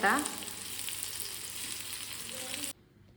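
Onion, garlic and coconut roast in a pan for a Konkani-style prawn curry masala, giving a steady broadband sizzle with a few early clicks. The sizzle cuts off abruptly near the end, leaving quiet.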